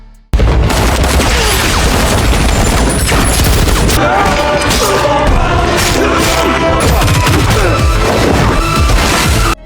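Loud bursts of gunfire and booming explosions crash together continuously, dense and chaotic like an action-film battle soundtrack.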